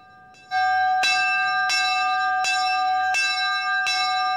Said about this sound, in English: The dinner bell signals the end of the workday.